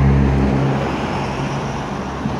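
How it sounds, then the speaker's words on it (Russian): Cars pass on the road next to an abandoned 1965 Chevrolet Impala, a loud close whoosh of traffic with low engine rumble fading slightly into a steady roadway hiss, and no talking. "К сожалению, сейчас поедут машины."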